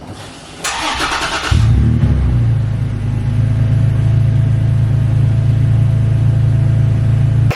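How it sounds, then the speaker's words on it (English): A Toyota Tacoma pickup with TRD cold air intake and TRD exhaust cold-starts: a starter cranks briefly with a burst of noise, then the engine catches and settles into a loud, deep, steady idle rumble. "a cold start with a Tacoma that has not only the TRD cold air intake system"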